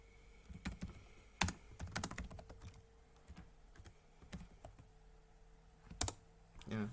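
Keys clack on a computer keyboard as text is typed into a mission editor, irregular close clicks in short bursts with pauses between words.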